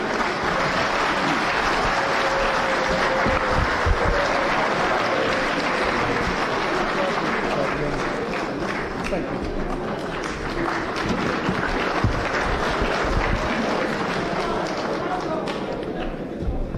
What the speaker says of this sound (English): Let's give him a bigger clap.